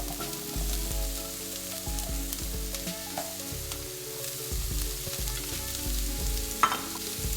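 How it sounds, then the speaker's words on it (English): Pumpkin added to onions frying in a pot for pumpkin soup, a steady close sizzle with intermittent scraping and clacks of stirring, alone without talk. "Now I'm going to add my pumpkins."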